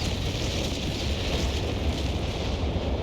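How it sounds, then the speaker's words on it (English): Naval artillery shells land across a sector in Company of Heroes on the Sousse Wetlands map, heard as a steady, muffled, distant rumble of explosions with a windy roar and no sharp individual blasts. "naval artillery is taking this whole sector"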